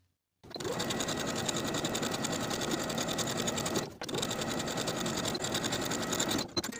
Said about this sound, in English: Top stitching along the side panel side with a 1/4 inch seam allowance from top to bottom